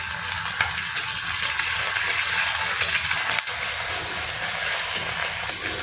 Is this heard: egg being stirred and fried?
yes